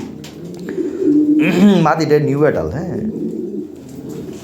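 Caged racing pigeons coo close by in soft throaty rolling calls, heard under someone talking.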